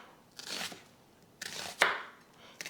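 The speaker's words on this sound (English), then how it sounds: "cut it into wedges" A knife cutting a peeled, halved vegetable into wedges, giving three quiet, separate slicing strokes with a small knock against the board, close and without voices.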